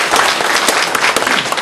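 A dense burst of audience applause at a book launch event in a hall after a closing speech, many hands clapping loudly and evenly throughout.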